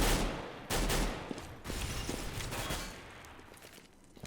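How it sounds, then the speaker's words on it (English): Gunfire from the Counter-Strike video game, with shots fired through walls during a competitive match: sharp repeated bursts and single cracks spread across several seconds, fairly close and with no talk over them. "Lots of wall banging going on, but none of it landing."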